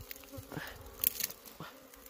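Honey bees buzzing around a nest wedged under a rock in mountain forest, a close, wavering drone with a few louder passes and sharp rustles.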